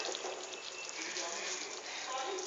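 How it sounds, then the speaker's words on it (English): Water from a full jug pours steadily into a thick simmering Punjabi kadhi pakoda curry, a continuous close splashing gush that carries on without a break. "I am adding one full jug of water into my curry once again because this is turning very thick"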